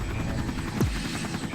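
A military helicopter flying overhead gives a steady low rotor thump and engine drone that holds for about a second and a half, loud and continuous with nothing else over it.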